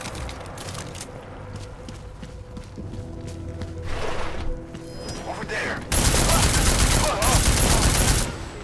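Gunfire in Deus Ex: Mankind Divided, a stretch of scattered shots over busy game ambience that swells into a dense, loud burst of firing near the end.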